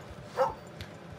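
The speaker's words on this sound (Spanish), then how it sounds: "¿Qué le pasa a este puto perro?" A single short bark from a dog in the Red Dead Redemption 2 open world, fairly faint against soft game ambience, with no other voices.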